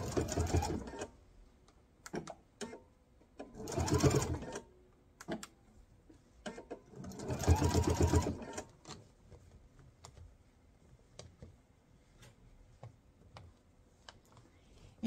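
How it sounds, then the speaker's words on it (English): A sewing machine runs in short bursts while stitching a mesh tote, with a brief run forward, a reverse pass and a longer burst, broken by quiet gaps with light ticks and clicks. "When I start out, I'm going to do a few stitches down, then I'll reverse and come back."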